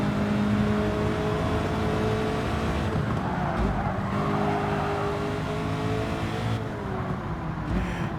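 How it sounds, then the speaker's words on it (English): A race car engine with turbo in a racing video game drones steadily at high revs throughout, with shifting pitch and brief tire squeals, heard fairly quietly. "Oh, is that the turbo kicking in?"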